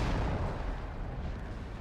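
A tank cannon firing in a tank video game, a heavy, dense boom with a rumbling tail that fills the short moment, loud and close.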